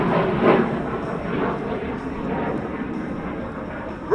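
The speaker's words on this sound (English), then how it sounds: "Great chance to look at the 92 flying in North America. You know, A-37's cruising." An A-37 jet cruises past at an air show, a broad steady engine roar that swells slightly early on and holds at a moderate distance throughout.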